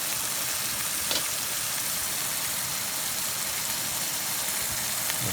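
A steak sizzles in a frying pan with herbs, a dense, steady crackling hiss that stays even and fairly loud throughout, with no talk over it.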